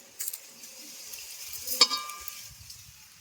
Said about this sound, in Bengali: উনুনে একটা কড়া বসিয়ে দিচ্ছি এর মধ্যে দিয়ে দেব মৌরি দু চামচ আর গোটা জিরে দিয়ে দেব দু চামচ